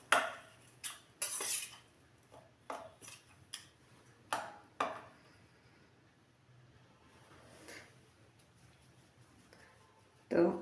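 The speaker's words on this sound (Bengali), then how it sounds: "এখন মেখে নেব ভালো করে।" Paneer paratha stuffing being mixed with spices and salt in a bowl: scattered clinks and scraping taps of a spoon against the dish, some sharp and close, others soft, with quiet pauses between.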